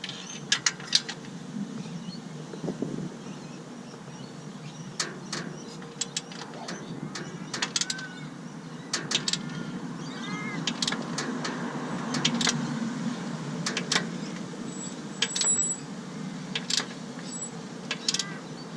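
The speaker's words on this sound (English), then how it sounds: "The gearbox is making sounds above my head, which means it's going in." A manual gearbox slides into place overhead during an R31 manual conversion, with faint, scattered metallic clicks, scrapes and knocks against a quiet background.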